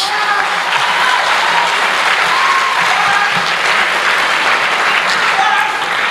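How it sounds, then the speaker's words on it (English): Sustained applause from an audience at the Thabo Mbeki Africa Day Lecture, a dense, even wash of many hands clapping steadily throughout with no pauses. "Let's clap for Sabato."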